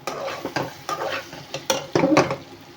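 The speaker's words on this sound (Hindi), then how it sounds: "अब इसको इस तरह मिक्स कर लेंगे" Okra (bhindi) with chaat masala stirred in a pan, giving a run of short scraping, clattering strokes of a spoon against the pan over a soft sizzle, close and moderately loud, with no talking.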